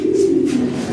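A pair of Lahori Sirazi pigeons, European imported bloodline, coos steadily and close up, a low continuous murmuring drone with no talking.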